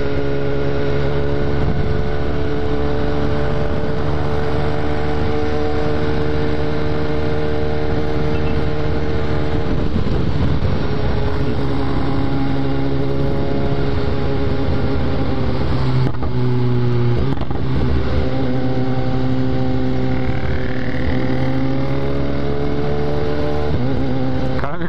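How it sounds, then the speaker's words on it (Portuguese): A BMW S1000R motorcycle on the road, its engine droning steadily with shifting revs and brief exhaust pops as it drops gears, loud and close throughout. "Dá um estouro em todas as reduzidas."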